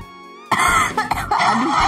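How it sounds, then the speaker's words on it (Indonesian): A sudden burst of coughing cuts in after a quiet stretch, a few rough, loud coughs close to the microphone in quick succession. "batuk gue."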